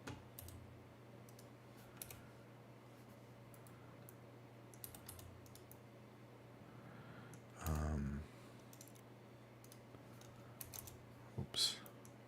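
Faint, scattered clicks of typing on a computer keyboard over a low steady hum, with a brief dull thump partway through; quiet and sparse throughout.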